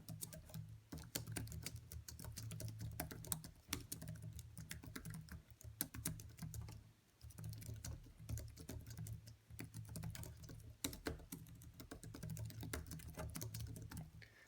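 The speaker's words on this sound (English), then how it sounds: "I'm going to go ahead and type this, or do this 1 minute typing test and just show you how fast you can type" Fast, steady typing on a Logitech Type+ keyboard case for an iPad Air 2 during a one-minute typing test: a continuous soft patter of key clicks with brief pauses, faint and close.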